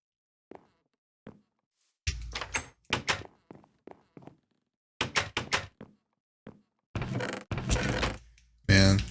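Old wooden door sounds from Minecraft 1.8, a series of short clunky opening and closing thuds in quick bursts, some in rapid pairs, loud and dry against near silence.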